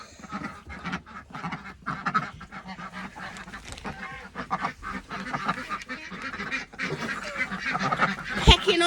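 A pet goose eating raw carrots gives repeated nasal honks and chattering calls close by, mixed with busy pecking and crunching noises that grow louder toward the end.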